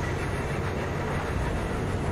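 A big train in Cyberpunk 2077 rushes along at speed, giving a steady, loud, broadband rumble with an even rolling roar and no voices.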